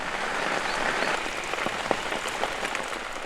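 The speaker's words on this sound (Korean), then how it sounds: "빗소리에 잠긴 운곡습지." Steady rain falls over the Ungok wetland, a dense continuous hiss of drops with a few sharper close patters, loud and even throughout.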